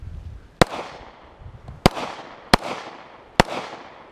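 Four sharp, loud gunshots ring out at an outdoor shooting range, each with a brief echoing tail, fired at uneven intervals without talk.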